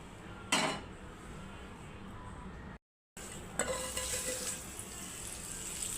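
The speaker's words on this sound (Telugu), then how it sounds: "ఇప్పుడు ఒక్కసారి దీంట్లో పోపు వేసుకుంటాను చిన్నగా చాలా తక్కువ ఆయిల్తో పోపు వేస్తాను" Tempering spices hit a little oil in a pan while making a brinjal yogurt chutney, giving a steady soft sizzle with two sharp clinks of utensils, broken by a brief silent gap.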